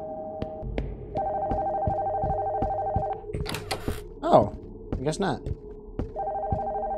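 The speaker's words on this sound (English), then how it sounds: "The phone from upstairs is ringing." Landline telephone ringing from upstairs in a horror video game: repeated electronic ring bursts in a steady rhythm, pausing while someone speaks briefly and other game noises intrude, then resuming.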